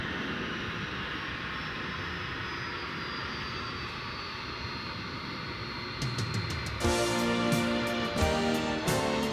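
A Boeing 757 arriving at DFW Airport at night from San Bernardino makes a steady, continuous jet engine roar. The sound swells louder toward the end as the aircraft draws nearer.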